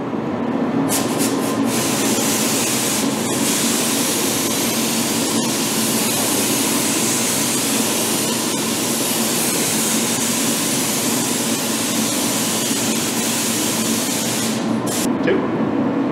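A spray gun lays green high-metallic base coat onto a Ford Bronco dash with a steady, loud, close hiss that runs unbroken throughout, with brief clicks and pauses as the trigger is worked.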